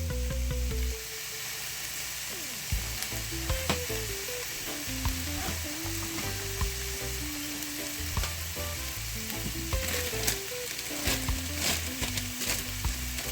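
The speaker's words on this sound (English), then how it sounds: "I'm going to add a little coconut oil inside too." Coconut oil heats in a pan for chicken fried rice, giving off a continuous soft sizzle and crackle with scattered pops, while background music plays underneath.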